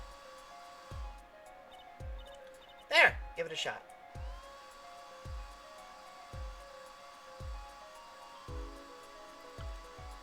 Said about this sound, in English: Just touch to direct the dryer.